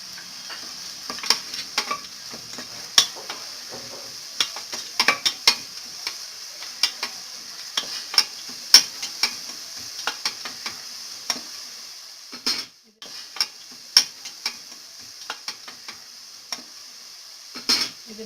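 Onions sizzle in a pan with a pinch of salt, a steady bright frying hiss broken by frequent sharp clicks and scrapes of a spatula stirring, with a brief pause partway through.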